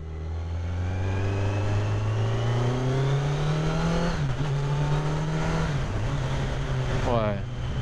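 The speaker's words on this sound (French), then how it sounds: "j'ai fait une petite accel juste pour voir comme ça ce que ça donnait" A 2020 Kawasaki Z900 A2 (35 kW) motorcycle accelerates hard on the road, its engine note climbing steadily through the revs with a brief gear-change dip, loud and close throughout.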